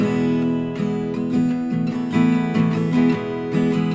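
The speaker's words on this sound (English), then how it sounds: "That's the sound of sus4." A strummed sus4 guitar chord rings out repeatedly, with its voicing shifting slightly between strums in a steady rhythm, clear and close.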